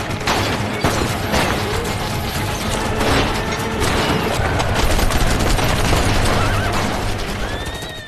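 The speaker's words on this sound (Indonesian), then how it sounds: "Malamnya saat Yosef sedang asik mengobrol, tiba-tiba prajurit Inggris menembaki mereka" Rapid gunfire from British soldiers in a film scene, dense rattling bursts of shots blended with mechanical clatter and a loud continuous action soundtrack, lasting throughout.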